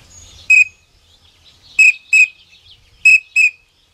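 Short whistled duck-call notes mimic teal, sounding in quick clustered bursts of twos and threes with pauses between, sharp and close in an otherwise quiet setting.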